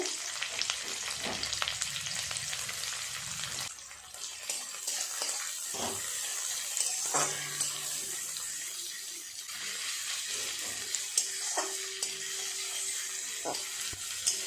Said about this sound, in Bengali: পেঁয়াজটা হালকাভাবে ভেজে নিয়েছি